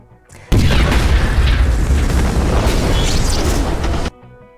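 A booming explosion sound effect bursts in abruptly, roars as a loud sustained blast with deep rumble for about three and a half seconds, then cuts off sharply into quiet music.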